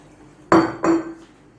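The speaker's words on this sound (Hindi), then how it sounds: "तो इसको मैं सही करके प्रेशर कुकर बंद करती हूँ।" A metal pressure cooker holding beef for yakhni pulao is shut with two quick, loud metallic clanks close by, the second following about a third of a second after the first, with a brief ringing tail.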